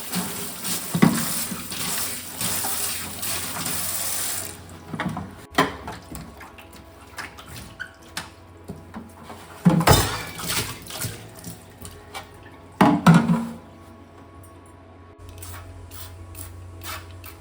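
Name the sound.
washing kitchen utensils under running tap water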